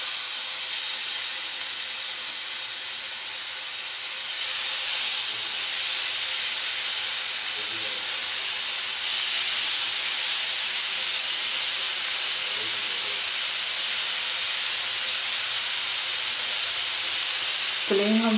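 Chicken tikka pieces fry in hot oil in a pan over a low flame, giving a loud, continuous sizzle and hiss that swells slightly partway through, with faint stirring or handling noises near the end.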